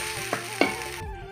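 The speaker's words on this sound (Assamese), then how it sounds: "গোটেইখিনি ভাজি লৈ" Cumin powder and black pepper powder sizzle in hot oil in a pan for an Assamese fish curry. It is a steady, close hiss with two brief stirring scrapes, and the sound drops off abruptly near the end.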